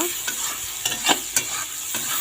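Jackfruit seeds frying with onion in a pan, an oily sizzle under a few quick scrapes and stirs of a spatula, close and brief.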